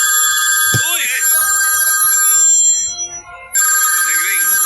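A telephone rings loudly with repeated electronic ringtone bursts, pausing briefly before starting again, while a voice talks over the ringing.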